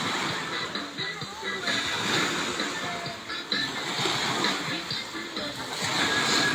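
Seawater sloshes and splashes continuously around a swimmer in the sea, a close, busy churning with faint voices underneath.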